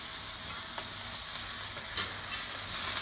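Asparagus sizzling and frying on a very hot griddle, a steady close crackle throughout with a few sharper pops along the way, no voices.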